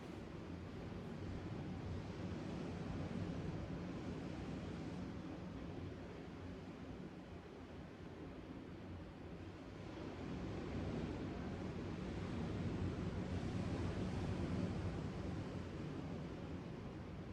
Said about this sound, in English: Maybe you drop into the rhythm of the waves as they roll in and out